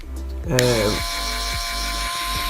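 A handheld electric face wash machine switches on and buzzes with a steady motor hum that stays close and fairly loud to the end.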